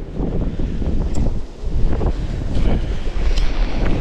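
Steady wind buffets the microphone with a constant low rumble on a winter shore while fishing for bonito, and faint surf noise sits underneath.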